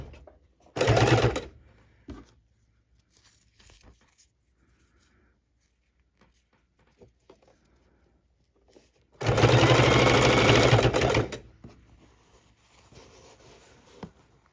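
A sewing machine stitches ribbons onto a fidget quilt in two bursts, a short one near the start and a longer steady whir later, with quiet handling of fabric in between.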